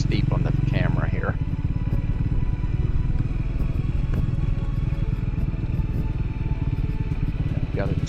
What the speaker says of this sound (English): I've got it in second gear, just engine braking down this thing.